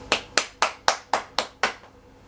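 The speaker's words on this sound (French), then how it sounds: "Je me fais un applaudissement." A man claps his own hands six times in an even rhythm, close and crisp, with a short pause after the last clap and no talking.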